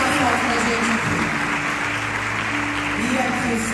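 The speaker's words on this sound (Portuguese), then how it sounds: "Então eu queria que vocês dessem uma salva de palmas a Jesus" A church congregation claps together in a steady, dense wash of applause that continues without a break, with voices mixed underneath.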